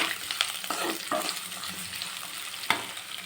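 Small-cut carrots sauté in oil in a pan with a steady, close sizzle, broken by a few scraping stirs of the pan; no one speaks.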